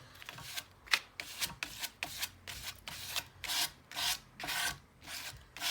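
Material applied to a surface is scraped in repeated strokes, about a dozen rhythmic rasping swipes, close and fairly quiet, each with a short gap between.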